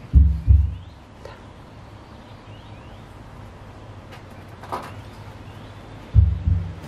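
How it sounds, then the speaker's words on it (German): Heartbeat of a bear in winter dormancy at Bärenwald Müritz bear sanctuary, slowed to about 10 beats per minute: two deep, muffled double thuds roughly six seconds apart over a faint steady hiss. "Herzschlag eines Bären in Winterruhe."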